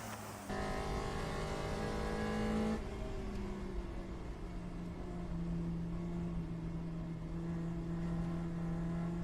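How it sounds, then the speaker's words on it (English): Onboard engine of the Dive Bombers GP1 race car during an eight-hour World Racing League race at Thunderhill, a loud, steady, close engine drone whose pitch drops and settles while it runs through a corner. "Here we are on board the Dive Bombers GP1 car."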